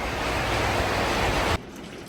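Steady broadband rain hiss during a sunshower in Kihei, Maui, loud and continuous before dropping abruptly to a softer patter near the end.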